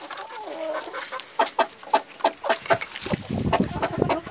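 Broiler chickens in a coop cluck in quick, irregular bursts at close range, several birds overlapping with no voices.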